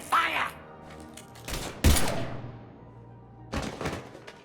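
A few sharp gunshot bursts in the video game Mass Effect 3, spaced apart with quieter gaps, close and loud, alongside brief speech.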